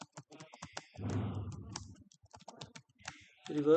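Typing code on a computer keyboard: scattered light clicks and taps at close range, broken by short bursts of speech in between.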